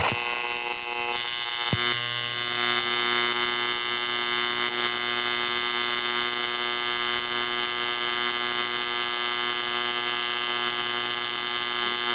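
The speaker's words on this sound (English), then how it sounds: "you're gonna see that the arc is still pretty focused, and it's just gonna even be all around easier to weld with this type of arc" Arc welding without pulse at 120 amps with a 1/8 inch electrode, a steady loud buzzing hum that holds continuously from start to finish, close up with no voices.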